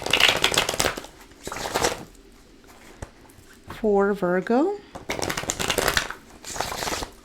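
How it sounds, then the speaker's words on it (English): Tarot cards being shuffled in bursts of riffling and sliding, close and crisp, alternating with someone speaking and a brief zipper-like rasp midway. "Let me give it another few shuffles."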